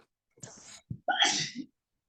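One sneeze heard fairly close: a short intake, a brief catch, then a sharp breathy burst, with quiet before and after.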